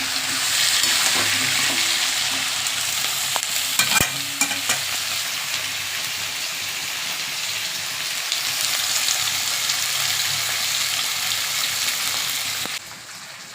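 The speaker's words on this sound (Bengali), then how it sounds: "এই কুমড়ো আলু এটা মোটামুটি ভাজা হয়ে এসছে" Pumpkin and potato chunks fry with onion in a pan for a shrimp curry, giving a steady, loud sizzle with occasional clinks and scrapes of stirring throughout.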